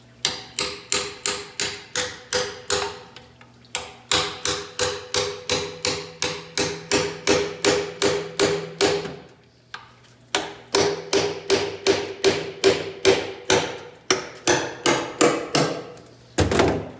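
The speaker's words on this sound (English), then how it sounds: "so we're going to use a chisel" A hammer drives a chisel against the transmission pan of a Dodge 2500 with a 66RFE transmission, sharp metallic strikes in steady rapid runs of roughly two per second, broken by a few short pauses, loud and close.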